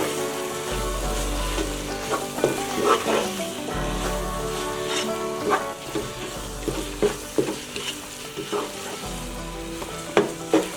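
Mint leaves stirred into a hot, frying biryani base for boneless chicken dum biryani, with loud, continuous sizzling and frequent scraping stir strokes close up and no voices.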